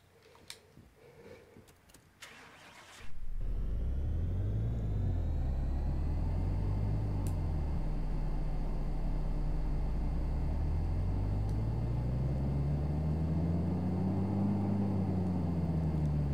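Simulated Willys Jeep engine in Car Mechanic Simulator starts after a few faint clicks, then runs loud and steady on a dyno, its drone rising and falling through slow rev sweeps.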